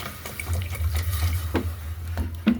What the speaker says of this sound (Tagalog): lagyan natin ng ice water o malamig na tubig